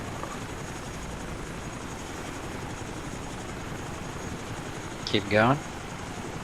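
A Chinook helicopter in the ArmA video game drones steadily and loudly from start to finish, its rotor and engine noise forming a constant wash, while a voice speaks briefly near the end.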